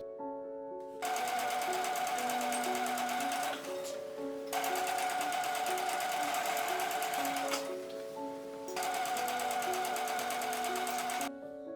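Sewing machine top stitching a denim tote bag, running in three long steady bursts with a high, even whirr and short pauses between, close up with no talking.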